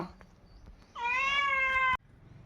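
A single clear, drawn-out cat meow, close and loud, against a quiet background.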